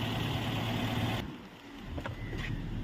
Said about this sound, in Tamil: இன்ஜின் நாய்ஸ்லாம் சும்மா பக்காவாக தெளிவாக இருக்குங்க